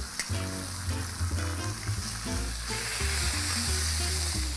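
Bacon sizzles and crackles steadily in a hot pan, a dense, close frying hiss that runs throughout with low tonal hum underneath and no talking.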